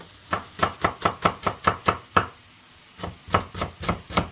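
A knife taps rapidly on a cutting board in quick, even strokes, finely chopping onion, pausing briefly before a second run of chopping, close and clear with no talking.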